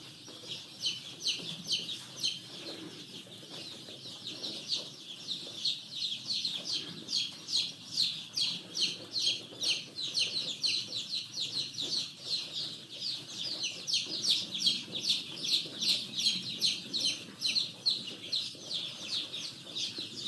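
A brood of young cockerel chicks a couple of days after arrival, cheeping in a dense, continuous chorus of high, rapid peeps, close by and fairly quiet, with no talking.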